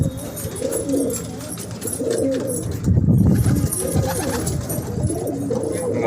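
Around 90 fighter pigeons coo repeatedly in soft, throaty rolling phrases, close by and continuous, with a busier burst of overlapping coos midway.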